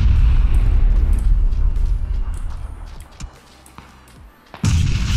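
Booming explosions and bursts of gunfire from a PUBG battle, loud and dense at the start, easing off into a quieter stretch before another loud burst near the end.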